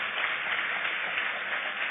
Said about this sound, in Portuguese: Aplauda o Senhor pela vida dela